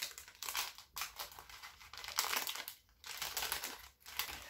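A packet of small bracelet accessories is opened by hand, giving close crinkly plastic rustling and crackling in bursts with short gaps, no talking.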